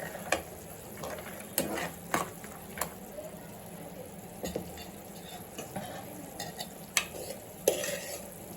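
Dry fruits stirred into melted jaggery in a pan for a rice dish, a quiet, steady scraping and sizzle punctuated by irregular soft clicks of the spoon against the pan.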